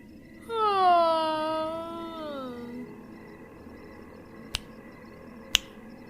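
Two sharp, loud finger snaps ring out about a second apart in a quiet room in a horror story scene, following an eerie, drawn-out wailing yawn that glides downward and fades.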